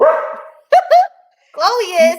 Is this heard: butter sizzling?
no